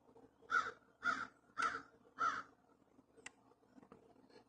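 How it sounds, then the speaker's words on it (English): Four loud crow caws ring out outdoors at sunrise in a steady, evenly spaced series, followed by quieter open-air background with a few faint clicks. "There are some birds flying around."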